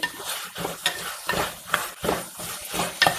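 Turmeric being stirred into ivy gourd curry frying in a pan: a spoon scrapes in quick, uneven strokes over a steady low sizzle, close up and with no voices.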